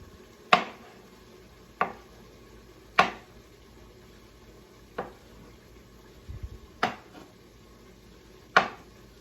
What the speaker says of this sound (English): You can cut up some of these black olives.